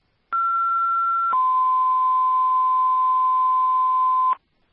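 Fire dispatch paging tones sound for a rescue squad call to a house fire in Putney, Vermont: a loud, clean steady tone for about a second, then a lower steady tone holding for roughly three seconds before cutting off.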